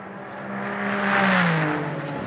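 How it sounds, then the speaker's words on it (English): A Nissan GT-R GT race car on the back straight during a practice session, its deep engine rumble swelling as it approaches and passes, loud and steady with a slight pitch shift. "rumble from that Nissan."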